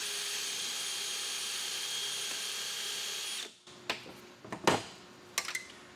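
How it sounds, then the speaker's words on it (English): A power drill whines continuously at high speed drilling out stripped clips during engine removal, then stops, followed by a few sharp clicks and clatters of parts being handled. "so I'm just gonna drill mine out"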